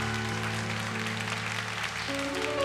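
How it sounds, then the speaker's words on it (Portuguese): A congregation in a church claps together in sustained applause, with the dense patter of many hands mixed over a held organ or keyboard chord. "Vamos aplaudir o Senhor Jesus."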